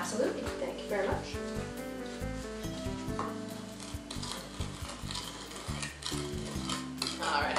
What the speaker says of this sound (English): we're going to use a wooden spoon to stir the mixture